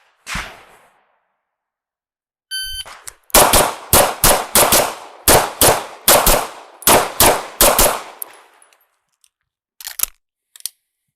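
A live handgun drill: a loud, close string of about ten rapid pistol shots in quick rhythm, followed after a pause by a couple of isolated sharp reports.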